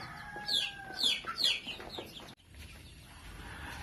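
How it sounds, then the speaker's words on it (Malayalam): Two-month-old chicks cheep and peep in several quick bursts over the first half, fairly close, on a Kerala poultry farm, followed by quieter background noise. "രണ്ട് മാസം പ്രായമുള്ള കോഴിക്കുഞ്ഞുങ്ങൾ"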